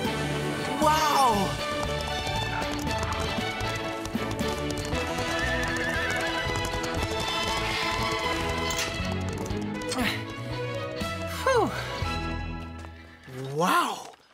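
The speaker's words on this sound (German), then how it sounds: "Ich wusste gar nicht, dass du mit Pferden aufgewachsen bist, Wendy." Horses in a children's cartoon neigh and whinny several times while hooves clip-clop steadily beneath dense music and background sounds, with a final loud whinny near the end.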